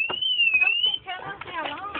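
A car alarm in panic mode sounds a loud, steady, wavering high tone for about a second, then cuts off as people talk close by.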